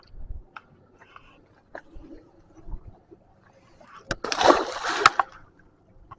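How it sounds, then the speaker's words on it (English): A carp is dropped head first back into the water from a boat during a release, giving one sharp splash followed by a short burst of churning water, close and fairly loud after quiet handling sounds. "to release this fish, gonna drop him head first into the water."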